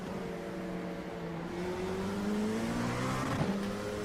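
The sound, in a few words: LMP2 race car engine in iRacing video game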